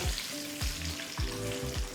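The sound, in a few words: lentils and peanuts roasting in oil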